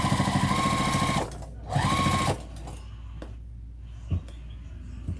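A sewing machine back stitching a vinyl tote bag runs in two short, steady whirring bursts, close up, followed by a few quiet clicks.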